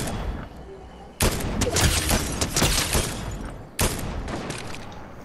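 Rapid bursts of gunfire from a Fortnite squad match crack out loud and close, in clustered volleys with a brief lull before a second burst.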